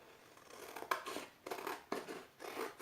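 Scissors snip along a marked straight line on material for a handmade travelers notebook: four crisp, fairly quiet cuts at an even pace, close by with no voice.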